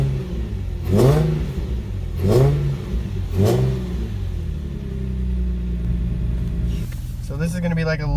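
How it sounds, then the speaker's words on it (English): A Nissan 350Z fitted with 370Z headers, test pipes and a Nismo exhaust revs up in three short, rising bursts at light throttle, each settling back to a deep, steady idle rumble, loud and close, with no one talking. "So this is going to be like a little acceleration, so it's kind of how it sounds on, I don't know, quarter throttle."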